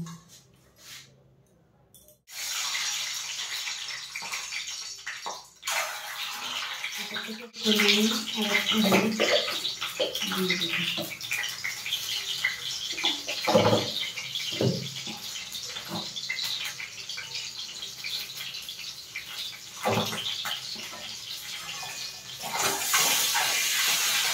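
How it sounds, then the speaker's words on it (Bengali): Eggs frying in hot mustard oil in a karahi wok on a gas stove, a steady loud crackling sizzle that carries on throughout, with a few brief clinks and scrapes along the way. "এবার ডিমগুলোকে ভেজে নেব।"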